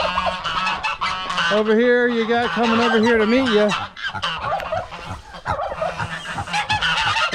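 Young turkeys on a farm call loudly and close by in a run of honking, wavering cries, while someone talks over and between them.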